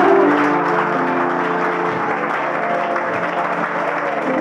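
A church conference audience applauds and cheers, a steady, full wash of clapping from a large crowd that holds at an even level throughout.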